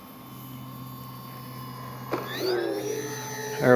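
An Avios Twin Otter RC model plane flies with a faint, steady electric motor whine that rises in pitch and loudness as it passes closer, ending louder.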